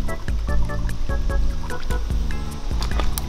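An airsoft AEG fired underwater sputters through a rhythmic run of slowing, labored mechanical cycles with a hot barrel and a dying battery, heard close and continuous with no talk.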